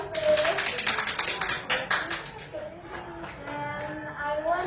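Dense clapping from a class of students in a classroom, steady and lively, with some voices mixed in beneath the applause.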